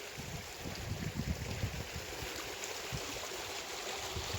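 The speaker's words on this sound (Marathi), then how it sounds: "हे पहा कसं पाणी वाहतय" Continuous rushing flow of rainwater through sugarcane and cotton fields after heavy rain, with low gurgling churn, steady and fairly close, no voices.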